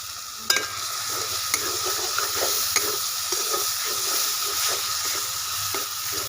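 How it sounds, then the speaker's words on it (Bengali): Ground cumin and coriander powder frying with ginger, garlic and green chilli paste in a pan, a steady close sizzle with stirring scrapes and occasional sharper pops throughout. "মশলাটাকে একটু কষিয়ে নেব। দিয়ে দিচ্ছি জিরে গুঁড়ো, ধনে গুঁড়ো,"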